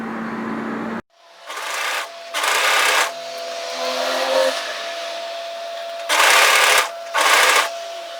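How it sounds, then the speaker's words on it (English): A serger runs in short whirring bursts while stitching a sweater yoke seam, several close, even runs of a second or so with pauses of fabric handling between them. "as you serge this in"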